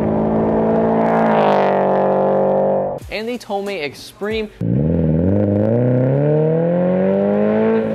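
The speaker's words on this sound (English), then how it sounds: "letting out a very aggressive exhaust tone" A single-exit catback aftermarket exhaust on a Toyota 86/Subaru BRZ-type car roars and drones in rising, aggressive tones, interrupted midway by a brief burst of speech.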